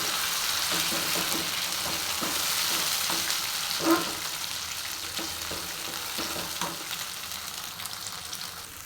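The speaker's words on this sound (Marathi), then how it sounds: "व्यवस्थित तेलामध्ये मिक्स करून घ्यायचं गॅस मिडियमच फ्लेमवरती भाजून घ्यायचं" Masala for a restaurant-style paneer curry fries in oil in a kadhai on a medium flame, a steady, dense sizzle heard up close, with soft stirring scrapes now and then.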